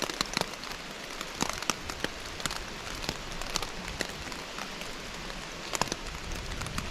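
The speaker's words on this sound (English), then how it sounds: "it just started raining out of nowhere" Rain drumming on a tent in Susquehannock State Forest, Pennsylvania, a dense, close patter with sharper individual drops striking the fabric throughout, no talking.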